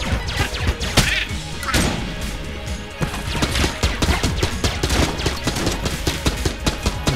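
Rapid, dense gunfire in the game Enter the Gungeon, with constant staccato shots, impacts and explosive bursts layered over game music, loud and continuous throughout.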